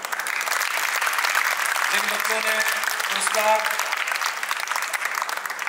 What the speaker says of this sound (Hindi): एक बार बेटा जोरदार तालियां